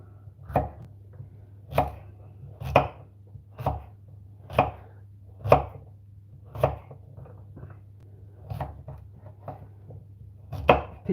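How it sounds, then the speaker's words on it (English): A knife chops vegetables into dice on a board, about a dozen crisp, evenly spaced strokes roughly one per second, close and clear with nothing else heard. "Sorry for the chopping noises in the background."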